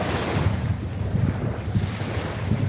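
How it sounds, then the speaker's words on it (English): Water lapping close by at the shore, soft irregular splashes under steady wind buffeting the microphone. "While at the same time I'm just listening to the water."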